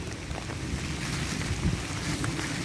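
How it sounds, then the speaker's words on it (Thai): Strong wind from a rainstorm roars and buffets the microphone in a jujube orchard, a dense, continuous rumble with no voices. "ลมแรงมากครับ"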